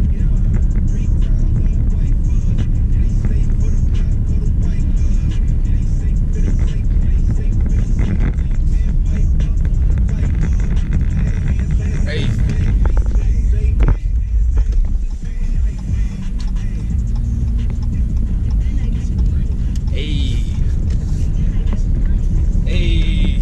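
A car driving at steady speed, with constant engine and road rumble filling the whole stretch, loud and close from inside the cabin, occasionally overlaid by faint voices or music.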